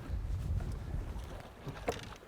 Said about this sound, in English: A little bit of wind blowing up on this island